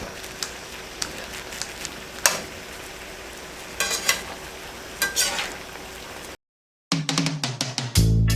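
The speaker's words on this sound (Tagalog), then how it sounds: "Ngayon po ay ilalagay ko na yung ating asparagus. Hahaluin lang natin." Asparagus being stirred in a hot pan, with a steady background sizzle and several scraping utensil strokes, followed by a brief silence and then louder, closer clattering near the end.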